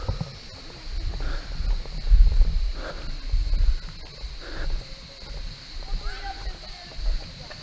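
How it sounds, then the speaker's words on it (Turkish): The 50-metre Uçansu waterfall pours steadily, a broad continuous rush of falling water heard from nearby, while someone talks over it at intervals. "Suyun akışına bak. Bu 50 metre olan şelale."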